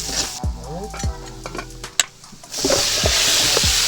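Pork stir-fried in a pan with sweet sauce, loud sizzling and repeated scraping stirs, the frying hiss swelling sharply louder in the second half as the sauce hits the hot pan.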